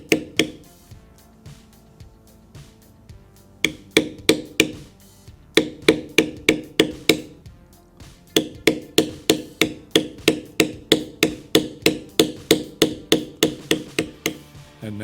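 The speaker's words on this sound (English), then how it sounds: "And now I can bevel the outside" Mallet striking a beveling tool on leather during dragon carving, a run of crisp close knocks, sparse at first, then a steady fast rhythm of dozens of evenly spaced taps.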